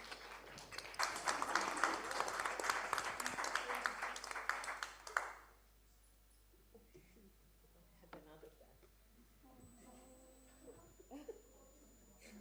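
Audience clapping at the close of a conference session, a dense burst of applause for about five seconds that stops abruptly, followed by quiet room noise and faint talk.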